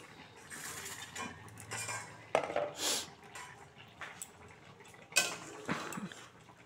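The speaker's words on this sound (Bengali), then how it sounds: "5 মিনিট পরে ঢাকনাটা খুলছি" A lid comes off a pot of fish curry with cauliflower and potatoes, giving two sharp metallic clanks with some softer clatter and bubbling in between, close but fairly quiet.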